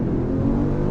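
An Acura MDX Type S engine pulls under throttle, a close, loud, steady low growl through one sustained second.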